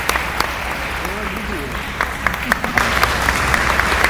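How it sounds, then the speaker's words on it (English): Audience applauding at a NAACP banquet in Santa Rosa County, a steady wash of clapping that swells and thickens toward the end, with voices mixed in under it. "Give her a great big round of applause for such a powerful message."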